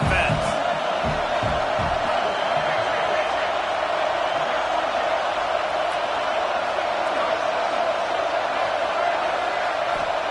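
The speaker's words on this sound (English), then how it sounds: "This crowd trying to make life miserable for this offense" Football stadium crowd at a Clemson game, a steady dense roar of many voices filling the background, continuous and loud, with a few thumps early on.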